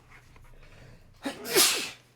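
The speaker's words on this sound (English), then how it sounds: "Can you imagine if I would have sneezed into the cape?" A single sharp human sneeze, preceded by a quick inhale, loud and close in a quiet room during a toy repair session, then fading into silence.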